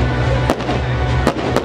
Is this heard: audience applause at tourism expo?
no